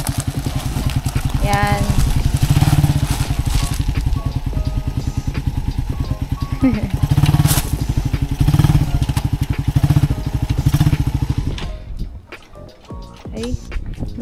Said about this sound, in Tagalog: Dito na lang yung motor ko.